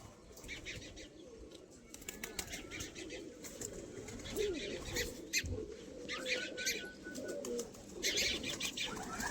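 Pigeons at a friend's house flutter and flap their wings while occasional coos and chirps sound nearby, with bursts of wingbeats across several seconds.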